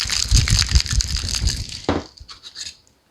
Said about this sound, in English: We're going to shake this up.